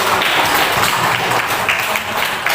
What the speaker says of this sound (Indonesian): Luar biasa, kasih aplaus juga.